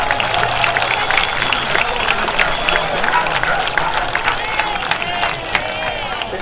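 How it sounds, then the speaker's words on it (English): Crowd applause at a high school football game honoring inductees, a steady broad wash of clapping and cheering from a large stadium crowd that continues without pause. "One more round of applause for all of our honorees this year."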